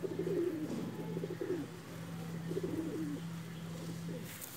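Soft, throaty coos from a Pakistani high-flying pigeon in a few rolling phrases over a steady low hum, fairly close and moderately quiet.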